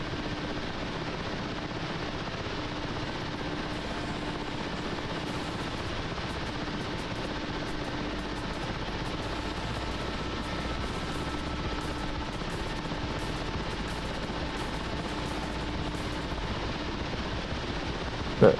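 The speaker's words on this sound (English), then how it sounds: "I'm flying the Mi-8 for you." An Mi-8 helicopter flying in the DCS World simulator, with a steady, even rotor and turbine drone that holds unchanged throughout, overlaid by faint rapid clicking near the top.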